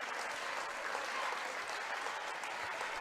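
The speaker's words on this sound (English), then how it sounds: "gets a nice round of applause from the flock" A basketball crowd at a December tournament third-place game applauds players coming off the court, steady dense clapping from many hands, moderately distant.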